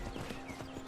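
Horse hooves clip-clop in a steady rhythmic gait in Skyrim, several even beats under a continuous wash of ambient game noise.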